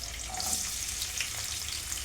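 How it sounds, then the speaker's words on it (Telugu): Chopped onion fries in hot oil for a mushroom curry, giving a quiet, steady sizzle with faint crackling and no talk. "ఆనియన్ కొంచెము ఫ్రై అవ్వాలి. ఒక 2 నిమిషాలు అనేది ఫ్రై అవ్వాలి."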